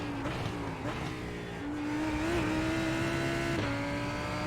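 Race car engine drones steadily in a racing video game at Road Atlanta, pitch rising and shifting as the car oversteers on a corner exit, with tyre squeal blended into the continuous loud engine note.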